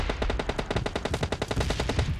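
Rapid automatic gunfire in PUBG Mobile Lite rattles off as a fast, even burst of around twenty shots lasting over two seconds, moderately loud with no voices.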